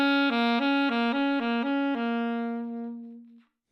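An alto sax plays a root note and a wildcard note, alternating between two nearby pitches in a few short, even notes before settling on a long held tone that slowly fades out, heard alone and up close.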